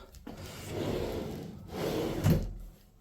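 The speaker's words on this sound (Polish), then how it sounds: "I szuflada gotowa z hamulcem." A soft-close drawer on an IKEA PAX wardrobe slides shut twice, each a smooth rolling glide that eases off softly at the end, close by and with no talking.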